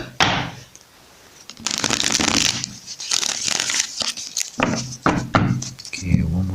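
A deck of tarot cards shuffled by hand in repeated bursts of papery riffling and slapping, close and fairly loud, with brief pauses between, and a voice speaking in places.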